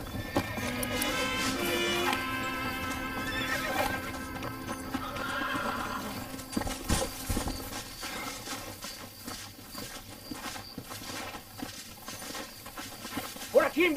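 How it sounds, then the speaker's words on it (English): A horse whinnies and its hooves clop steadily in the Red Dead Redemption video game on PS3, set against a busy game soundscape with a loud, full mix throughout. "Excellent horse!"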